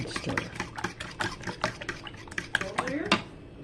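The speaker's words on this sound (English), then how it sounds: "And stir." A utensil stirs an egg and spinach frittata mixture seasoned with salt and pepper in a bowl, giving quick rhythmic clinks and scrapes close up, with a little speech mixed in.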